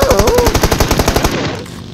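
Rapid automatic gunfire in the mobile battle royale game PUBG Mobile, a loud, evenly spaced burst of about fifteen shots over a second and a half before cutting off into quieter game ambience.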